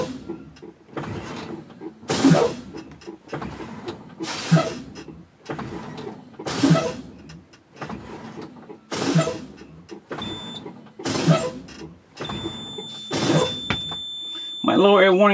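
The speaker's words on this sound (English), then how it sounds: "I'm going to press and fan my brake until my low air warning light comes on and stays on." Air brakes on a truck being pumped repeatedly until the low-air warning comes on, each press letting out a loud burst of hissing air, about ten bursts in a steady rhythm spaced a second or two apart.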